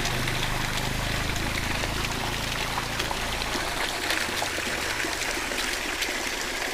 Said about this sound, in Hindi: ये नेचुरल सोर्स है, ये झरना आ रहा है